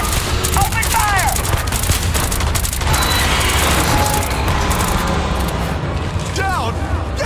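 Dense, continuous gunfire from the sci-fi video game Starfield, heavy and close, with booming bursts and rattling volleys running without a break for several seconds.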